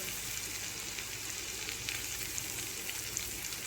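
Spiced masala sizzles steadily in hot oil in a pan while being stirred for Bengali-style koi fish curry, a continuous close frying hiss with small crackles and no talking.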